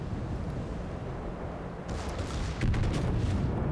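Secondary guns on the Conqueror battleship firing in World of Warships, a low rumbling barrage of booms that swells after a quiet start and stays loud and close.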